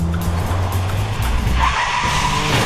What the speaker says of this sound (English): on her 70k an hour run, Mariah's speed is good, but she's not nearly aggressive enough on the brake